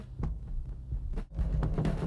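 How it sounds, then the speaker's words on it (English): A soft, muffled heartbeat thumps irregularly within an album, low throbbing pulses blending into a hazy, droning musical background. "I like the heartbeat stuff here merging into the drums."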